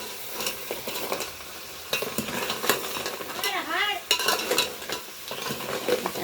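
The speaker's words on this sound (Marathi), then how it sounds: "मस्त परतून परतून घ्यायची" Crab curry is stir-fried in a pan over a wood-fired stove, with steady sizzling and the scrape and clink of a spoon stirring in repeated strokes, close by.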